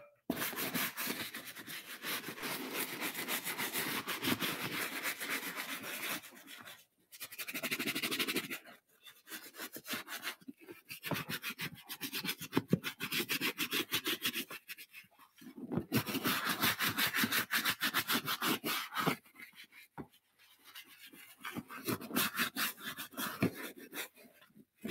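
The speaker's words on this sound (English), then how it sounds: "We're just repeating that same process where we scrub it up" Leather boot being scrubbed with a brush, steady rough rubbing strokes in long bursts separated by brief pauses, close and fairly loud, no talking.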